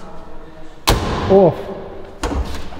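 A Renault Toros car door is slammed shut twice, with two sharp, loud thumps about a second and a half apart, close by, and a man exclaims between them.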